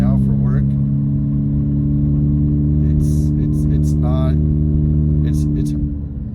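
A Volkswagen MK7 GTI fitted with an XClutch Stage 2 clutch cruises gently at low revs, its engine a steady, close droning hum from inside the cabin with someone talking over it.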